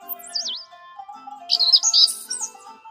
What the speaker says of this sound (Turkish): Kuşlar uyanır, cıvıltıları yankılanır.